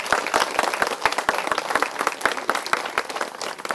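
Loud applause from an audience at an event honouring an MLA, with sharp hand claps rippling steadily throughout.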